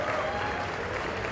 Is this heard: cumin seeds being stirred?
no